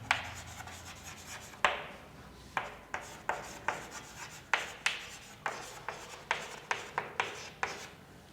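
Someone writes an equation on a board: a series of crisp, scratchy strokes come one after another in an irregular rhythm, close and clear, with no talking.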